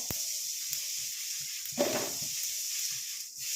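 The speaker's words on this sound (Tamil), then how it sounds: "இப்போ இது 3ஐயும் நல்லா நம்ம ஃப்ரை பண்ணி எடுக்க போகிறோம்." Curry leaves sizzling steadily in a hot pan, a continuous bright hiss with a sharp crackle at the start and a louder burst of spattering midway.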